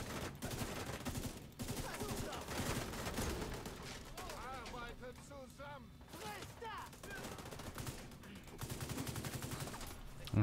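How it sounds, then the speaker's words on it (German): Machine gun fire in The Division 2 shooter game, rapid bursts and sustained volleys mixed with other gunfire and a voice talking over it, fairly quiet overall with a mid-clip lull. "Das MG dreht voll durch."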